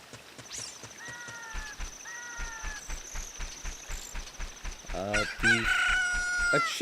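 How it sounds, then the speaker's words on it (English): A chicken crows just after hatching from an incubated egg in Ocarina of Time, a rising cock-a-doodle-doo over a steady rhythmic game music beat, with a brighter jingle and more crowing following near the end. "A chicken hatched from the egg you were incubating."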